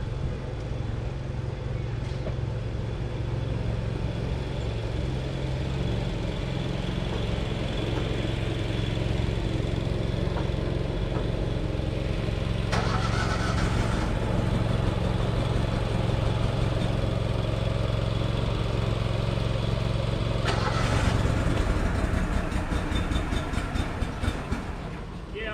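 Large-scale model train engine without body shells starting up and settling into a steady running drone, with clattering bursts midway and near the end, and faint voices in the background.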